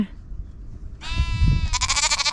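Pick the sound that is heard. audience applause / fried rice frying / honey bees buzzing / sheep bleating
sheep bleating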